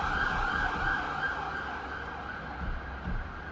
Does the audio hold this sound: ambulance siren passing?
yes